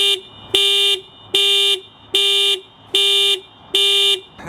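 A Volkswagen Beetle's alarm blares in loud, evenly spaced bursts, five harsh electronic tones repeating with short gaps between them.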